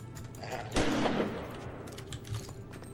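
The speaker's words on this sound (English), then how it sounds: "we're so far south, even fireworks are legal" Fireworks going off, a sudden loud blast near the start followed by a short crackling tail that settles into a steady background rumble.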